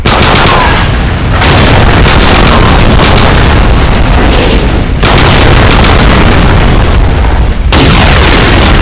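Heavy artillery strike explosions in the video game Call of Duty 4: Modern Warfare, loud continuous booming blasts that saturate the sound, broken by a few brief dips between impacts.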